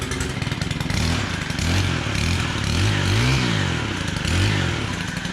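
Two-stroke weed eater engine running close up, loud and raspy, with its pitch rising and falling in repeated revving swells over a few seconds.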